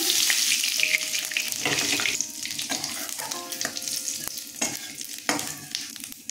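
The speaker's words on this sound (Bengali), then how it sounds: "আর একটু সর্ষের তেল দিয়ে দিচ্ছি, শুকনো লঙ্কা দিয়ে দিলাম ফোড়নে, জিরে ফোড়ন দিলাম" Dried red chillies and cumin seeds sizzle loudly in hot mustard oil after fish frying for an aar fish curry, a steady close crackle with stirring scrapes throughout and no talk.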